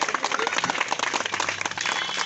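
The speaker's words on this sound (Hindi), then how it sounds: "मैं चाहूँगा आप लोग इनके लिए भी जोरदार तालियों से।" An audience at a rally in Lucknow for a women's wing of a volunteer force claps loudly and steadily, a dense burst of many hands close to the microphone with a few faint voices mixed in.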